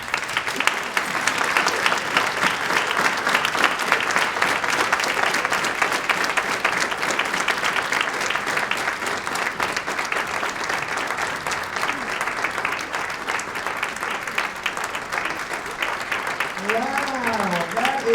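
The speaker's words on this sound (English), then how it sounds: "let us rise and give a round of applause as we welcome Dr. Ilyasa Shervaz to the stage" An audience at a Black History Month program claps steadily and loudly in a hall for a guest taking the stage, a thick continuous wash of hands with scattered voices and whoops over it.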